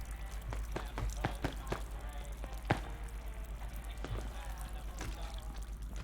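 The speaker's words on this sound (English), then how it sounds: "why is it with that water drippy noise?" Water dripping in Fallout 4, a run of irregular, sharp drips and trickles over a steady low hum and soft background noise, moderately close and continuing throughout without speech.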